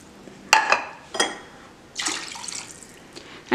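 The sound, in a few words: water poured into pot of rice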